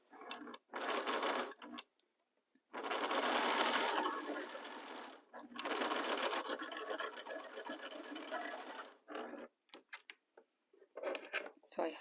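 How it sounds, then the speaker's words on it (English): A sewing machine runs in several bursts, stitching quilt triangles to a square at a quarter-inch seam for a pinwheel star block, with a long steady run in the middle and short starts around it, close and fairly loud. "align my other triangle with my square and start sewing again a quarter of inch"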